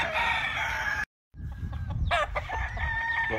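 Roosters on a California bird farm crow in loud, close calls, one drawn-out crow rising and falling after a short break, with clucking and farmyard noise around it.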